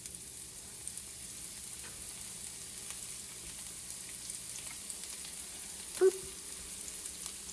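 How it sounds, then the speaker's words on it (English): Chopped shallot fries in a pan for a one-pan pesto pasta and meatballs dinner, a soft steady sizzle with faint crackles running throughout and a single brief clink partway through. "We're then gonna add in the chopped shallot"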